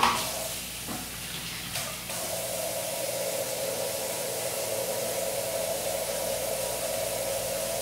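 Running tap water pours steadily over a microfiber cleaning sponge being rinsed, a sharp knock and brief handling at the start, then a constant close hiss of flowing water.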